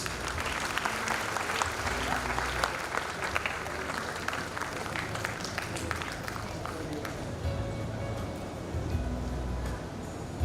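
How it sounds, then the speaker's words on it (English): Audience applause fills a college engineering induction ceremony hall, a dense, steady clapping that holds for about ten seconds, with crowd murmur and some voices mixed in beneath it. "Ladies and gentlemen, boys and girls, can we have a big round of applause, please?"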